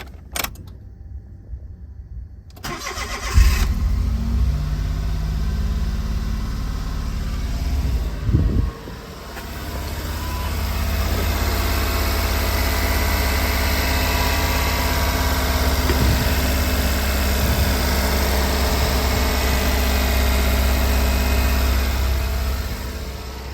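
A Honda Z car engine cranks briefly and catches, then settles into a steady, close idle with a low, even hum and slight vibration, with a short clunk partway through.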